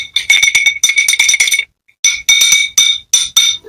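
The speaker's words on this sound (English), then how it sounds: "I'll give that a cheeky stir." A whisky cocktail with a cherry is stirred in a glass, giving a loud, rapid run of bright clinks and rattles. A brief pause interrupts the stirring before a second burst of clinking follows, close up, with no talk.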